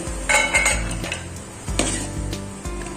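A spoon scrapes and clinks against a pan while fried cashews and raisins for rava kesari are lifted onto a plate, with repeated metallic knocks and a faint sizzle underneath.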